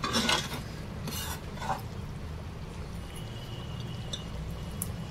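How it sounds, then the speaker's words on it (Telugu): A mango mutton gravy being stirred in a pot on the stove, soft scraping and gentle bubbling with a few light utensil clinks, close and fairly quiet. "స్టవ్ ఆన్ చేసుకొని గ్రేవీని దగ్గరికి చేసుకోవాలి"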